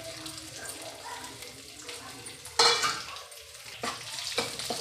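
Cumin seeds and kasuri methi frying in two to three spoons of oil in a kadai, with a faint sizzle and a few louder splashy bursts as ingredients are stirred in.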